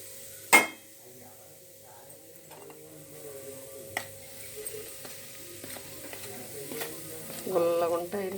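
Jaggery gavvalu dough shells frying in hot oil, a soft, low sizzle after a sharp metallic clink at the start, with occasional light utensil taps and a bubbling swell near the end.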